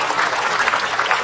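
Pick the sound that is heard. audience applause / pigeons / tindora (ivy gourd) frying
audience applause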